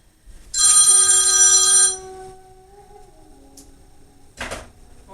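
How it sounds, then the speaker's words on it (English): A phone ringtone goes off loud and close during a yoga flow session, one bright electronic ring burst of about a second and a half, followed by a fading tone and a short soft knock. "Forgot to put my phone on silent."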